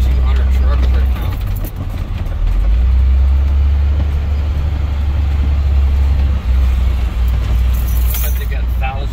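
A rollback truck rolls around a large trucking facility with many docks, its engine a steady loud rumble throughout, with a dip near the start, while people talk over it.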